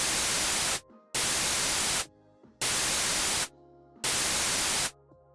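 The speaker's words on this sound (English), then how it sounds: "You can opt to use white noise, of course, which is very nice to test out in understanding filters." White noise from a software synthesizer in four loud bursts of full-spectrum hiss, each about a second long, switching abruptly on and off with near silence and faint hum between them.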